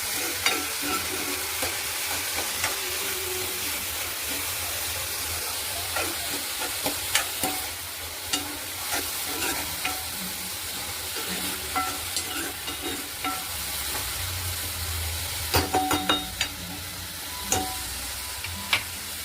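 Malabar spinach sizzles in a pan with salt, a loud continuous frying hiss broken by repeated clacking stirs of a spoon, especially toward the end.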